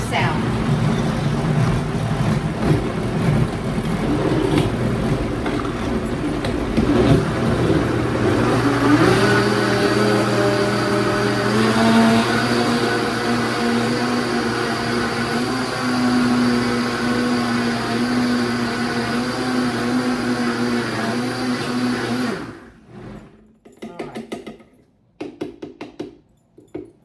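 A blender whirs loudly and steadily at close range while pureeing roasted kabocha squash soup, its pitch shifting as the contents smooth out, then it cuts off abruptly, leaving faint handling noises.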